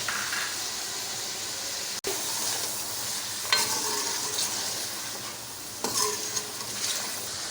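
Mutton sizzles and fries in a karahi with salt and turmeric, a steady close hiss broken by a few scraping stirs and a brief dropout near the start, with no talking.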